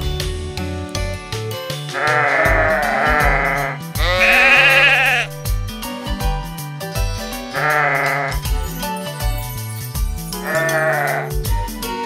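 Sheep bleating in a cartoon farm scene, several loud wavering bleats over a steady musical backing, repeating every few seconds.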